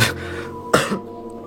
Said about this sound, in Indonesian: Sorry ya batuk ya